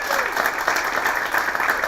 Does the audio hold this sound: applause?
yes